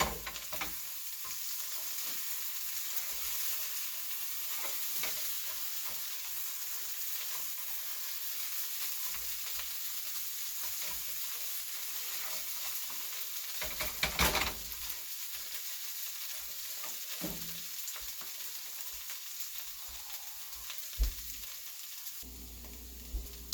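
Home grown potatoes and onions fry in a pan with a steady, close sizzle and hiss, broken now and then by the scrape of stirring and turning.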